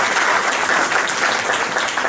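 Crowd applause for a volunteer at a live talk, a sustained, full wash of many hands clapping close and loud, with no speech on top.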